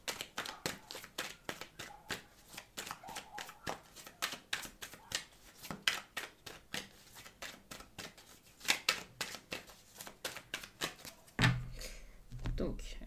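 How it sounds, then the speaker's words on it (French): Tarot cards shuffled by hand in quick, rhythmic riffling bursts, close and fairly crisp, running steadily through the whole stretch before a brief louder handling thump at the end. "je vais battre un petit peu parce que j'ai fait n'importe quoi avec la coupe"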